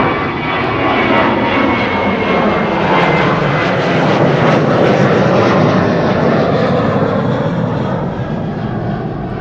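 A KLM Boeing 737-800 departs Amsterdam Schiphol Airport with a loud, sustained engine roar that swells toward the middle and then eases slightly, with no voices.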